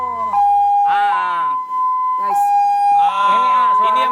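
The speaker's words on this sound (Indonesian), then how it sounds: "Berarti kalau kita ngedenger suara ambulan ini berarti ini ambulan dalam keadaan emergensi" An ambulance siren being tested in Indonesia wails loudly and close by, its rising and falling tone repeating through the whole stretch, with people briefly talking over it.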